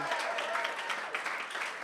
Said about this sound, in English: A massive round of applause to Lewis Wyatt